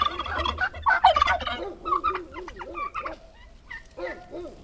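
Turkeys gobble repeatedly at a farmyard with a chicken coop, loud, close bursts of rapid warbling calls overlapping one another, with a low background rumble.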